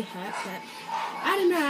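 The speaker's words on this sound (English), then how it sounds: "excuse the barking because that's just my dogs going off about someone at the front" Small Maltese cross Shih Tzu dogs yip and whine in the background, a rising whiny yelp near the end, mostly under continuous nearby talking.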